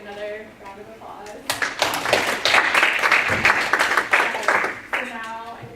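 Audience applause for panelists at an academic women's and gender studies conference at Georgetown, a burst of dense clapping that swells, holds steady for several seconds and fades, with a voice speaking briefly before and after.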